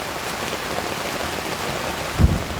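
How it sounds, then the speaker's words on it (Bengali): Steady rain falls throughout on a tea garden road, with a single low, muffled rumble of thunder near the end. "বৃষ্টি পড়তে বা গর্জন দিচ্ছে মেঘ আবার"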